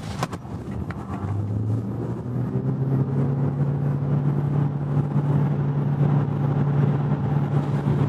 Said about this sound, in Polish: teraz sprawdzimy sobie, jak wypadnie przyspieszenie do setki, ale przy wyładowanym akumulatorze